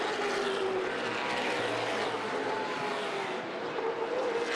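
Late model sportsman stock cars roar in a dense, continuous pack at Winchester Speedway during a championship race, with engine drone loud and sustained and a faint whine riding above it.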